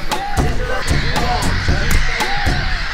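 Gulls near a lake island call repeatedly in harsh, rhythmic cries, a dense chorus of loud squawks close by, with waves of calls overlapping steadily throughout.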